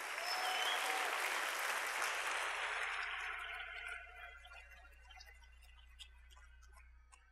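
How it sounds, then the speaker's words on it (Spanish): A church congregation breaks into loud applause, a thick burst of many hands clapping that fades over several seconds into a few scattered claps and quiet room noise. "denle un fuerte aplauso al Señor"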